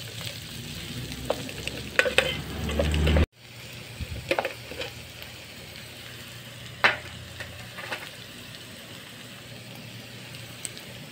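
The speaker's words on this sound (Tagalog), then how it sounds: "Igisa muna natin yung luya. Tapos, sinit na sibuyas." Ginger and onion sauté in a hot pan, starting with a loud busy sizzle that drops sharply partway through. After that come quieter frying and scattered stirring scrapes and clicks.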